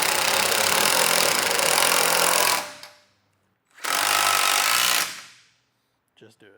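A power tool tightens the end bolts of a Chandler Truck Accessories ADAPT Base Rack on a truck bed, running in two long, loud, close bursts separated by a short pause, followed by a couple of faint brief knocks.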